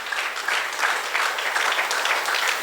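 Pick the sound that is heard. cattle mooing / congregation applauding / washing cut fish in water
congregation applauding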